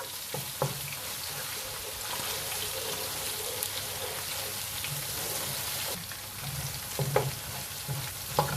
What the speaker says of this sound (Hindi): ये साथ आपने गार्लिक ऐड कर देना है, थोड़ा सा ऐड करना है।